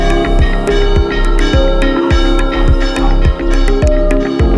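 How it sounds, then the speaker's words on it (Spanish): The bells of the Church of San Antonio de Padua in Frigiliana, Málaga, Spain, ring loudly and continuously, overlapping peals clanging in a steady rhythm with a deep booming undertone. "la localidad que ahora palpita al compás de las campanadas de la iglesia"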